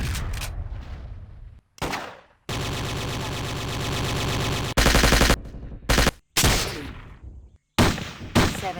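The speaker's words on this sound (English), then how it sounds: "The game boasts an absurd variety of weapons, and all of them come with their own bangs and booms." Video game weapon fire from the first-person dinosaur game Trespasser: loud bursts of sustained automatic gunfire alternating with single heavy booms and short silences, no voices.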